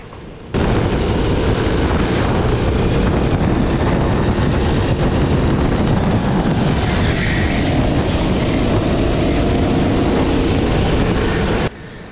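Racing kart with a strong engine at full throttle on the Le Bignon circuit, a loud, steady, close droning roar that holds for about eleven seconds before cutting off.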